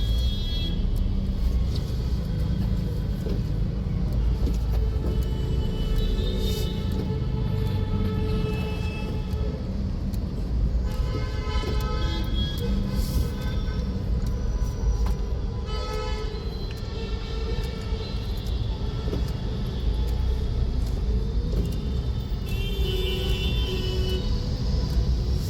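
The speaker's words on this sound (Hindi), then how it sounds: "आप देख रहे हैं कितना ट्रैफिक है" Dense road traffic on a city route between Wazirpur and Rohini, a constant engine rumble and tire hiss close by, with car horns tooting repeatedly over the noise.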